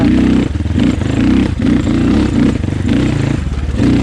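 A Moto Pro RR300 off-road motorcycle fitted with a Rekluse Radius X clutch rides over rocky ground, its engine loud and close, surging and dropping in uneven bursts about every half second with no talk.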